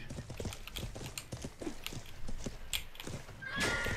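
A horse in a video game whinnies and its hooves clop in a quick uneven rhythm, with a sharp neigh near the end and faint game effects around it.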